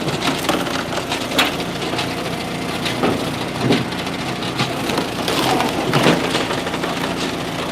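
Firewood being split at a campsite: sharp woody cracks and splintering thumps recur irregularly over a steady background rumble, fairly close.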